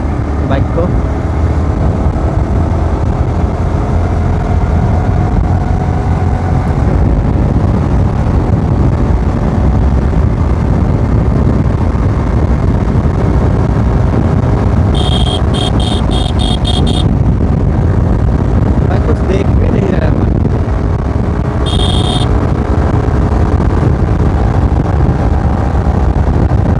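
A Yamaha R15 V4 motorcycle engine drones steadily while riding, loud and continuous with wind and road noise, a voice talking over it and brief chirps near the end.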